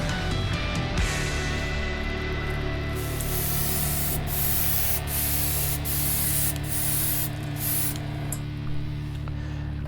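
Spray painting a light coat onto the secondary hull of a 1:350 scale Enterprise refit model gives a loud, continuous aerosol hiss, broken by a few brief pauses toward the end.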